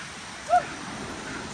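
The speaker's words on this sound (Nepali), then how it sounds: "बाँदर कराको" A monkey gives a single brief, high call near a forest waterfall on a hillside trail, short and fairly clear above a soft, steady background of rushing water.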